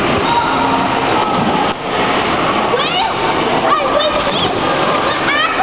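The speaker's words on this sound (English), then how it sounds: "Hajime's first time jumping in the water" Pool water splashing and churning steadily as a young girl jumps into a swimming pool during a swim class, with children's voices and shouts mixed into the constant wash of water.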